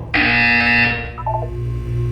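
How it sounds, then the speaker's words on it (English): A loud electronic buzzer from Portal 2 blares steadily for about a second and then cuts off, leaving a faint ambient hum and a few soft tonal blips. "When you hear the buzzer, look up at the ceiling."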